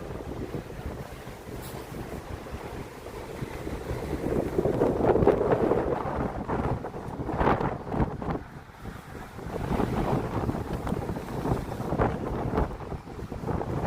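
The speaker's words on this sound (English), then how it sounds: "Oh, it's windy." Gusty winter night wind on a Toronto street buffets the microphone in rising and falling waves, a rough low rumble that swells and fades, with no talking.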